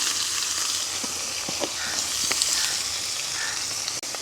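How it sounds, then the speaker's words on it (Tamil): Mustard seeds, fennel, shallots and green chili frying in hot oil in a village kitchen, a loud, steady sizzle with scattered pops and crackles throughout, no voices. "எண்ணெய் கொதிச்சிட்டுது கொஞ்சமாக கடுகும் பெருஞ்சீரகம் போடுவோம் அதோட வந்து சின்ன வெங்காயம் அதோட பச்சை மிளகாயம் பட்டி வச்சுருக்கோம் அதையும் போட்டுக்கொள்ளுவோம்"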